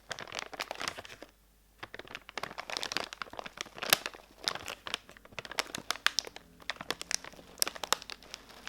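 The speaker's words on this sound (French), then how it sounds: "Petit ASMR paquet croquette." A packet of cat kibble is crinkled and handled up close, giving quiet, irregular bursts of plastic rustling and crackling with brief pauses between the handling movements.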